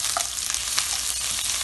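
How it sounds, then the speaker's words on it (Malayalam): Tomato, ginger and garlic fry in a pan while being stirred for a Kerala-style egg roast, giving a steady close sizzle with soft scraping throughout, and no voices. "ഇതിനി നല്ലോണം ഒന്ന് മൂക്കട്ട്, നമുക്കിതൊന്ന് നല്ലോണം ഇളക്കി"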